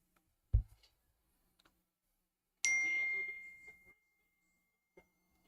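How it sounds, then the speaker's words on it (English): Short, bright phone notification chime during a live wrestling reaction stream, a single tone with a lingering ring, preceded by a faint knock and otherwise near-silent surroundings. "Sorry if my phone keeps going off."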